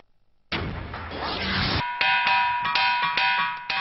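A black stone from Magra hill is struck several times, each hit giving a bright metallic clang that rings on with a sustained bell-like tone, close and clear with no talking.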